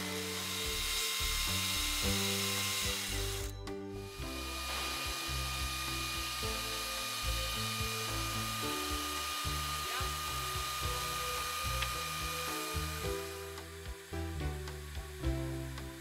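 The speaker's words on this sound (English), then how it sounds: "the mast must be immediately sawn using a special chainsaw" A rail-guided chainsaw whines and buzzes through a log for a ship's mast, its pitch shifting as it bites, with a short pause before cutting resumes, fairly close.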